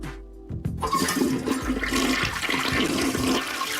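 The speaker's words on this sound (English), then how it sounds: "That's a good toilet. It's good pressure there." A household toilet flushes with strong water pressure: a loud, close rushing gush starts abruptly and keeps churning steadily to the end, with no voices.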